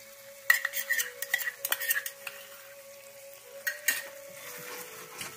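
Poppy seed and cashew paste is stirred into a pan of oil for a Bengali chhanar dalna, with a close burst of scraping spoon strokes and clicks over a faint sizzle, then quieter stirring, and a steady thin tone underneath.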